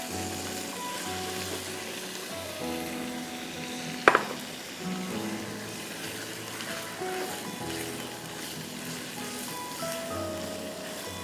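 Raw half-inch chicken cubes, 400 grams, dropped into a pan of cooked onion and garlic, sizzling and frying steadily at close range, with a sharp clatter of the pieces hitting the pan partway through.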